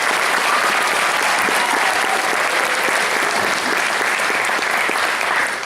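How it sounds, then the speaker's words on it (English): Sustained applause from an audience at a high school jazz band concert, a dense, even wash of clapping throughout, fairly close and full, with no break. "Give it another round of applause."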